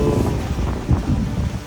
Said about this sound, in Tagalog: Pero sobrang hangin.